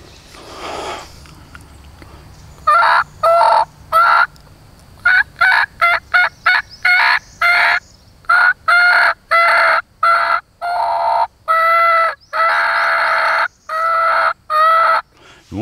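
Turkey hen yelps imitated on a turkey mouth call, a rapid run of sharp, loud, close notes in short bursts, tightening into quick series with brief pauses between groups.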